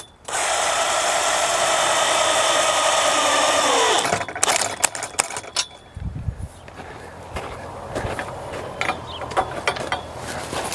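A power drill runs steadily and loudly for about four seconds while tightening hardware on a DIY garden trellis, then stops, followed by scattered clicks, knocks and handling noises.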